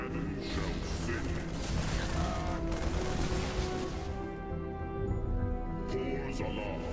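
Rapid bursts of Protoss photon cannon fire in StarCraft II: Legacy of the Void crackle and clatter over a dense, loud battle soundscape, with booming impacts throughout.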